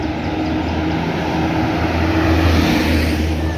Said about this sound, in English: That plane no coming up there.